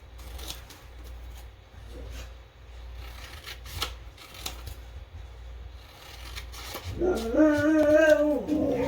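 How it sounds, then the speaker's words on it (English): A dog whimpers and cries from the porch, a few faint whines early on, then a louder, wavering howl-like cry rising near the end, with light shuffling noises in between. "I hear my dog's crying"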